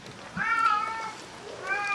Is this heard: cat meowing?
yes